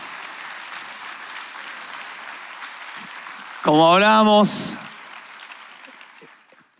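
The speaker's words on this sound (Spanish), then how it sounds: "Dale un fuerte aplauso al Señor" Church congregation applauding: a steady wash of clapping runs under a preacher's speech, briefly interrupted by a loud tonal swell before the applause fades out.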